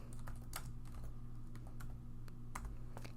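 Fast, light keystrokes clatter on a computer keyboard in irregular bursts over a low steady hum, close and fairly quiet, with no voices.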